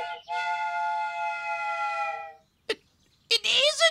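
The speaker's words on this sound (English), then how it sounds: "I'm sure I heard a choo-choo train!" A toy train whistle: a steady, harmonic whistle tone holds for about two seconds, then a short sharp burst follows and a brighter, wavering whistle closes the clip.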